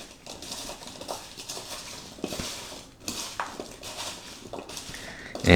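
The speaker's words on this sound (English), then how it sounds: "So just mix it up like this." Cucumbers tossed with salt in a bowl make soft, irregular clattering and wet pattering up close, with light scrapes against the bowl and no talk.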